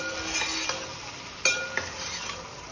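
Cauliflower, eggplant and masala for Khandeshi khichdi are stirred in a pan, a soft sizzle running underneath while the spoon scrapes and knocks against the metal a few times, one knock clearly louder.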